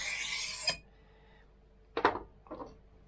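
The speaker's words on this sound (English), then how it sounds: "you can take totally perpendicular to the stone and scrape that edge off" A knife edge is scraped perpendicular across a fine sharpening stone in a few short rasping strokes, a longer scrape followed by two brief ones, close and fairly quiet.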